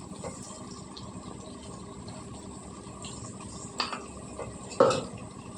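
A spoon stirs drumstick pieces and onions with salt and turmeric in a cooking pot, giving soft continuous scraping and a couple of louder clinks near the end, quiet and close.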